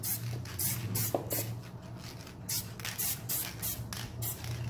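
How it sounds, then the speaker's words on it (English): Spray adhesive hisses from an aerosol can in a series of short bursts, repeated rhythmically over a craft project, fairly faint and with no talking. "I'm going to take some spray adhesive and spray it on here"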